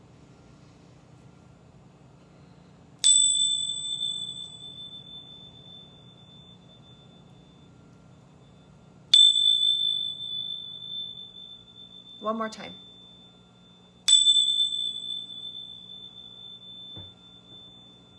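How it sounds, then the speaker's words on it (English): Small bells rung for a tarot reading, three bright ringing strikes spaced several seconds apart, each sustaining a clear tone that slowly fades, close by, with a brief voice between them. "I'm going to ring these bells 3 quick times and say a quick prayer"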